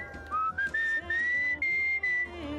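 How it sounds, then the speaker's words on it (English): A melodic whistled tune from the video game Where the Water Tastes Like Wine, with clear sustained notes that glide up and down in a steady phrase over a soft musical backdrop. "Ooh, this is a new whistle song."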